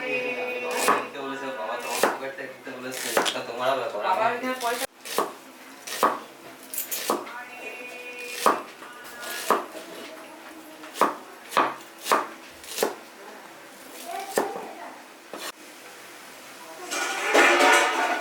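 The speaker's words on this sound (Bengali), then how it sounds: "আমি অল্প পেঁয়াজ কুচিয়ে নিচ্ছি" Onions being chopped on a board with a knife, a run of sharp, close knocks in an uneven rhythm, sparser and spaced out in the middle, over quiet kitchen background.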